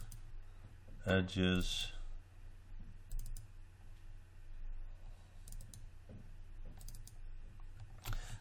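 Computer keyboard keys clicking during 3D modeling work in Maya, a few scattered taps and clicks under a voice-over.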